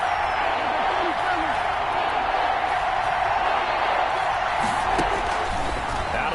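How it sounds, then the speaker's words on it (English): Stadium crowd noise from an American football video game with the Cowboys on the field, a steady roaring wash of cheering that holds loud throughout with no break. "Crowd getting in it a bit already."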